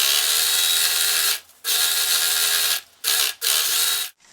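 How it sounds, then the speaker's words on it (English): A serger overlocking stitches along the bottom seam of a fabric bag at 5/8 inch, sewing over folds, running in steady mechanical bursts with a few short pauses between runs. "I'm going to go back to the serger and serge along the bottom at 5/8 of an inch again"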